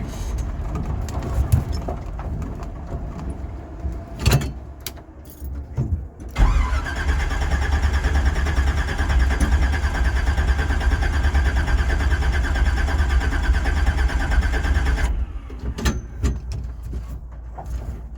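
Old racecar engine restarted after stalling beside a gravel turnaround: a cranking whir catches into a loud, steady rough idle that runs for several seconds and then cuts off, with some handling noises before and after.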